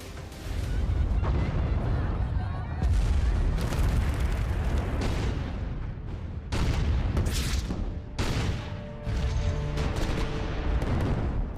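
Gunfire and artillery from fighting in Afghanistan roll on continuously: heavy booms and bursts of shots overlap into a dense, rumbling barrage with sharp cracks standing out at intervals.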